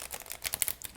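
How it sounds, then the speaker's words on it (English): A thick Sufi Tarot card deck being shuffled by hand, a quick one-second burst of dense papery riffling and soft clicking card edges, close and fairly loud, with no talk. "Okay, I'm gonna try to shuffle it this way."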